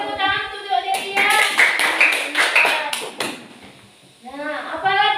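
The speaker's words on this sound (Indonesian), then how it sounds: "Tepuk tangan untuk Aurelia." A group of children clapping in a quick burst of scattered applause in a classroom lesson, mixed with talking, then a voice speaking alone as the clapping stops.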